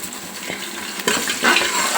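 Fresh ginger garlic paste sizzles with onions in a hot pan, giving a steady, loud frying hiss with brief stirring swells partway through.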